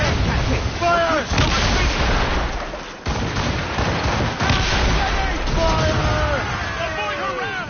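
Ship cannons fire in a naval battle in the video game Assassin's Creed Rogue, sustained loud booming volleys under constant shouting crew voices and battle noise.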